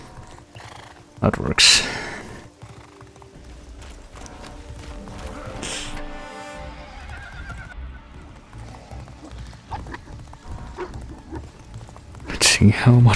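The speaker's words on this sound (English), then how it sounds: "Let's see how much longer we can keep this whimsical horse riding sequence for." A horse in the game Castlevania Lords of Shadow clip-clops along at a steady pace and gives loud whinnies near the start and end, with someone briefly talking over the ride.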